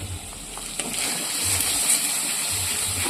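Spices and fried potatoes sauté in a pan with Kashmiri chili powder and salt while cooking Bengali tengra fish curry, a steady close sizzle with scraping stirring strokes throughout.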